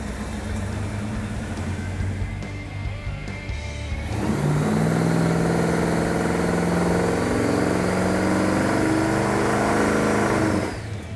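An old, worn Mopar car engine runs on a dyno, first a rough idle and then a sustained high-RPM rev for several seconds before dropping back, loud and near.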